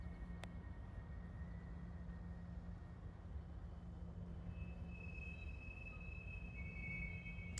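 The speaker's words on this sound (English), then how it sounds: "You can really see how the retarders slow cars down." Rail yard retarders grip a green boxcar at a hump yard, the Chicago Clearing Yard: a steady low rumble with thin, high squeals sliding in and out over it, heard at a distance without speech.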